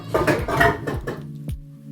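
Dishes, pots and metal utensils clatter and knock together while being washed quickly in a home kitchen, giving a run of close, sharp clinks and thuds with no talking.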